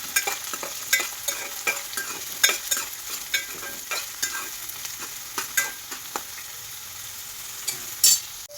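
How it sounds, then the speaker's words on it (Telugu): Onions fry in oil in a pan while being stirred, giving a soft steady sizzle broken by regular scraping and clinking strokes of a spoon against the pan, close and alone without any talk. "ఆనియన్స్ వేసుకున్నాం తిప్పుకోవాలి"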